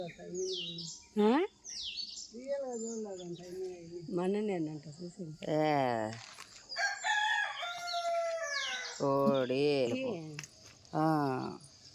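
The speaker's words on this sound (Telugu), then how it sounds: "చిన్న కోడి" Chickens, including a young hen, cluck and call close by in short bursts, with a rooster-like crow, while a person talks intermittently and insects chirp faintly behind, in a village.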